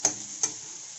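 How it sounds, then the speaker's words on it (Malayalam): Onion and chilli frying in a pan for chicken vindaloo, a steady close hiss of sizzling broken by two sharp clicks as the pan is stirred. "ഇനി ഇതിലേക്ക് നമ്മൾ എടുത്ത് വെച്ചിരിക്കുന്ന ചെറിയ കുറച്ച് പോർഷൻ ഉള്ളി ഇടാം. പിന്നെ മുളക് കൂടി ഇടാം."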